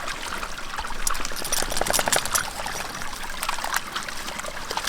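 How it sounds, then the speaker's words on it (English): Small flowing mountain creek on the Continental Divide Trail, a close continuous trickle and babble of water with steady gurgling splashes. "this is like the first good flowing creek we've seen"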